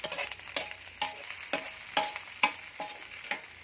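Spice paste for a field rat dish is stir-fried in a hot pan, a steady sizzle punctuated by about eight rhythmic spatula scrapes and clacks, close and unaccompanied by speech.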